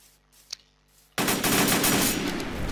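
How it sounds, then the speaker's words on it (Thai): Rapid automatic gunfire breaks out in the Minecraft InfectionZ zombie mod, a dense loud burst of shots starting suddenly after a quiet moment with a brief click, then continuing steadily to the end. "มันยิงปืนใส่เรา"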